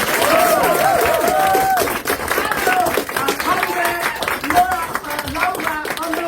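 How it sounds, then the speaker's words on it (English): A live audience at an evening performance event claps steadily, with continuous crowd applause and a voice speaking over it partway through. "You can keep clapping."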